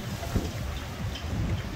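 Strong wind blows along Pier Ave at Hermosa Beach, a steady broadband roar and low buffeting rumble against the microphone with no pauses.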